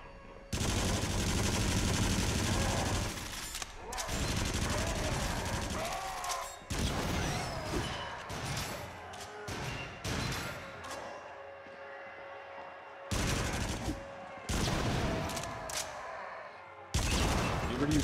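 Gunfire in Until Dawn: Rush of Blood crackles in loud, close bursts of rapid shots and fusillades, broken by short pauses and mechanical clanks across the whole stretch.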